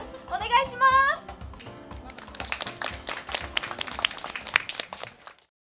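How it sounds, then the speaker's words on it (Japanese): A live audience at a concert applauds to welcome a singer, a dense patter of clapping that follows a short burst of music and vocal sound, then tails off. "それでは大きな拍手でお迎えください。"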